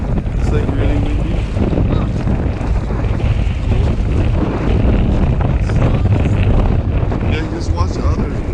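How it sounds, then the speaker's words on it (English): Strong wind on a rail trip from Banff to Jasper, Canada, in September roars steadily into the microphone, a loud continuous buffeting with a faint voice buried underneath. "It's like really windy."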